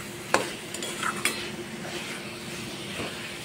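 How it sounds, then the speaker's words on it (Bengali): Boiled chickpeas being stirred in masala and oil in a pan, with a few scraping clinks of a spoon against the pot over a soft, continuous frying hiss. "এবার একটু নেড়ে চেড়ে কষিয়ে নেব সব কিছু দিয়ে।"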